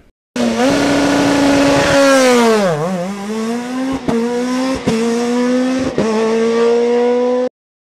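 A Peugeot 207 rally car races up a hill climb near Wolsfeld, its engine screaming loud and close, dipping and climbing through sharp gear changes with brief cuts between shifts before cutting off abruptly.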